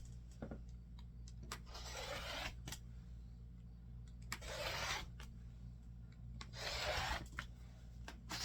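Rotary cutter slicing cotton fabric into 6.5-inch strips for a gnome quilt top, heard as three or four soft, close scraping passes separated by quiet pauses, over a steady low hum.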